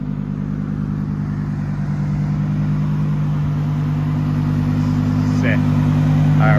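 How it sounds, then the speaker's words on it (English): A supercar engine with a newly fitted exhaust idles close by in a deep, steady drone that swells slightly toward the end, while people talk over it. "Hear this thing. Exhaust just got put on."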